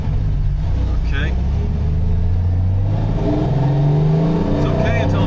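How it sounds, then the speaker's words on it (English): A Mercedes 300SL Gullwing engine running down on power, a loud, steady low drone that climbs in pitch as it revs under load, heard from inside the car with a voice speaking over it. "after making fun of Michael, this thing is down on power, like it's down a cylinder or a clogged fuel filter"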